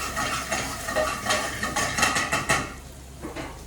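Wooden spoon stirring in a hot pan for stripe bass aqua pazza, with repeated scraping, clinking strokes over a steady low sizzle, close and fairly loud, no talking.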